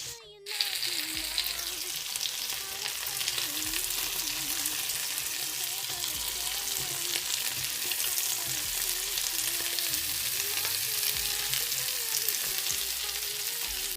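Ndole made with dried bitter leaf frying slowly over low heat, a steady, close sizzle that runs through the whole stretch, with a faint stir or scrape now and then.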